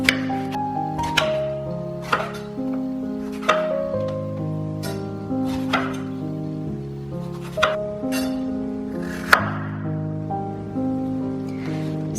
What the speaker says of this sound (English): So let's start by chopping up our eggplants.